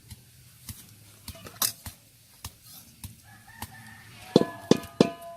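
A rooster crows near the end, a short strained call following scattered taps and clicks against a quiet outdoor background.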